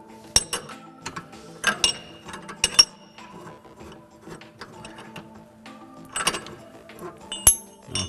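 Sharp metallic clicks and clinks come in irregular bursts as a nylock nut is turned against the spring on a John Deere Gator track carriage, close and fairly quiet, with gaps of near silence between the ticks.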